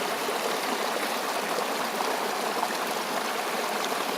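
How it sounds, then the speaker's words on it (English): A small stream flows and babbles steadily, close by and continuous, with no voices. "I'm sitting on top of a stream right now."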